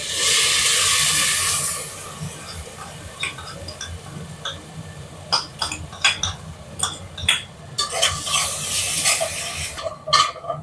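Ginger garlic paste dropped into a hot pan for a chicken gravy gives a loud opening sizzle, then fades into quieter frying broken by sharp clinks and scrapes of a spoon stirring against the pan.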